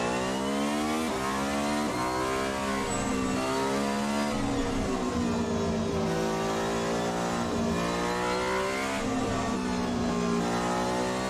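An ASR-H-2020 race car in Assetto Corsa runs at the game's standard settings while its tyres warm up. The engine drones loud and steady and close by, with its pitch rising and falling through repeated throttle and gear changes across the whole stretch.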